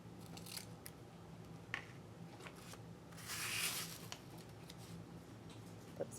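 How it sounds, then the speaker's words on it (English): Scissors snip through a paper image to trim it to size, giving close, crisp cuts at a steady rhythm with one longer rustling cut partway through. "Cut it to the right size, of course."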